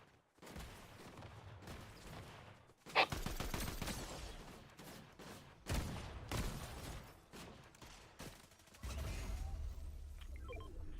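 Gunfire in the Fortnite Zero Build video game, bursts of shots cracking out in rapid clusters with loud peaks and scattered louder volleys, alongside other game noise.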